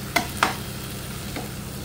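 Spoon scraping and stirring in a pan while tomato bharta with roasted chillies cooks, two distinct knocks early and a lighter one later over a steady low sizzle, with no voices.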